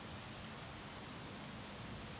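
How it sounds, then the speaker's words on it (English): Steady rain pours down in the horror game Vampires' Melody, a dense, even hiss that fills the whole stretch with no distinct thunder crack and no talking. "I can only detect the sound of rain and lightning around me."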